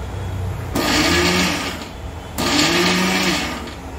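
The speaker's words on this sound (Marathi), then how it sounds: "असं थांबून थांबून मिक्सर फिरवायचं आहे." An electric mixer grinder whirs through peanut chutney in two short bursts of about a second each, loud and close, with a brief pause between runs.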